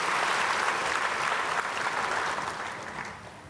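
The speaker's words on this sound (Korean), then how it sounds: "박수해 주시기 바랍니다" A congregation claps at an early-morning prayer service in a church, a dense, even burst of applause that gradually fades toward the end.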